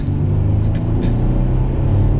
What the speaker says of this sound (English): with this Gibson exhaust, we can give it a little bit of gas